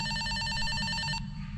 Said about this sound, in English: Where the hell was the phone ringing?